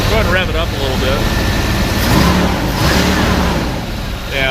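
A 1993 GMC Yukon's 5.7-liter 350 V8 runs steadily and swells slightly as it is revved, close by, with voices talking over it throughout.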